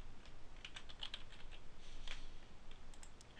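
Rapid keystrokes on a computer keyboard as a network password is entered while setting up a Hamachi network for a Terraria server, close and fairly quiet, in uneven bursts with no talking.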